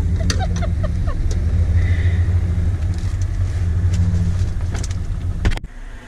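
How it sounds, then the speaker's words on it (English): A camper van driving along, a steady low engine rumble and road noise from inside the cabin, fairly loud throughout before cutting off abruptly near the end. "We're gonna go in the camper van."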